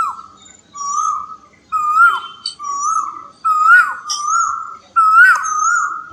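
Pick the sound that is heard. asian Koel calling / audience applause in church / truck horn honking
asian Koel calling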